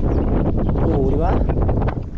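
Strong wind outdoors at a fishing spot buffets the microphone with a loud, steady rumble, while someone talks over it throughout.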